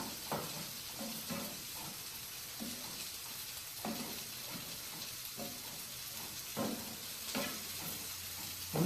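Sausage, bacon and onions fry together in a pot with a soft continuous sizzle, while a spoon stirs at a fairly steady rhythm, its scrapes repeating close by at a low level.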